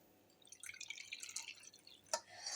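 Sweet lemon juice being poured into a glass gives a soft, trickling splash that builds briefly, then a small sharp clink and a bubbling fizz at the end, faint and close.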